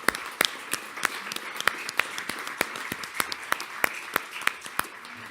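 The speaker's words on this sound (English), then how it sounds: "I'm gonna give a clap for that" Audience clapping at a township council meeting to honor wrestlers: steady, moderately loud applause in a hall with distinct individual claps, no voices over it.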